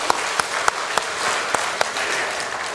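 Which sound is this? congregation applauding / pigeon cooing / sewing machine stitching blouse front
congregation applauding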